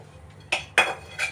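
A utensil clinks against cookware as cooked red pumpkin bhaji is moved from a kadhai into a container: three sharp, close metallic knocks spaced apart, fairly quiet, with no talking.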